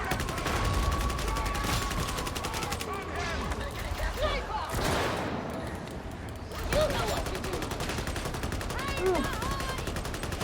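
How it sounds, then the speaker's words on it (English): Rapid, sustained gunfire from the video game Warhammer 40,000: Darktide, with dense automatic bursts close and loud, a brief lull midway, then more shooting, while a voice speaks over the shots. "My bullets will hit the sniper eventually."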